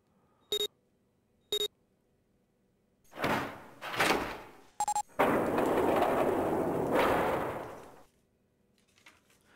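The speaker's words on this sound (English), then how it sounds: "The door had opened." A door in Zero Escape: 999 opens after two electronic beeps and a third tone, with a shuffling clunk, then a long loud sliding hiss as the heavy door slides open before falling quiet.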